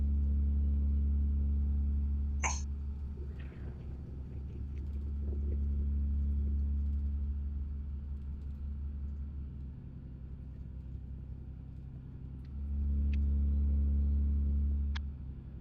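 A truck engine rumbles steadily in American Truck Simulator, a deep, loud, continuous drone swelling and easing over time, with occasional faint chirps and no talking.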